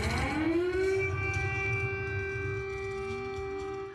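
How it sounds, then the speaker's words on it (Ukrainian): A loud air raid siren played by activists on a Warsaw morning sweeps upward and then holds a sustained wailing tone, slowly fading toward the end with no voices. "Ранок у Варшаві починається з гучної повітряної сирени, яку включили російським дипломатам активісти."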